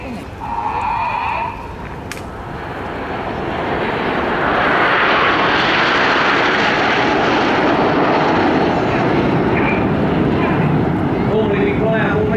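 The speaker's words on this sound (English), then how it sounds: "the following pilots now use a lot of rudder to swing the jets out like a pendulum" Red Arrows display jets flying in formation at an air show in Bournemouth swell into a loud, sustained roar that builds after a quieter start and holds steady, with a commentator's voice over it.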